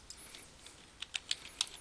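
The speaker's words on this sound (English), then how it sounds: "Again, typing in the first name" Quiet clicking of a computer keyboard as someone types a customer's name into point-of-sale software, a short run of light irregular keystrokes, faint and alone.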